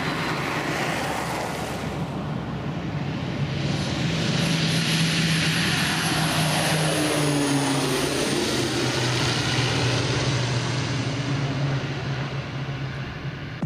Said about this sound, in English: This plane's propeller creating vortices.